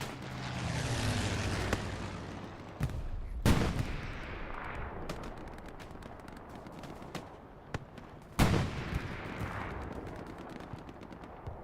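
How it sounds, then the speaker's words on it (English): Aircraft strafing run in the WWII shooter Hell Let Loose on Juno Beach, a dense rattle of automatic gunfire with a couple of sharp heavy impacts, loud and continuous with no talk. "Strafing run goes through."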